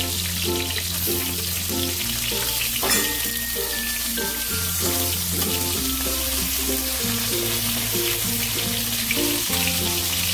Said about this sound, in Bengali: তেলটা গরম হয়ে গেছে। এবার আমি বেগুনগুলোকে ভেজে নেব।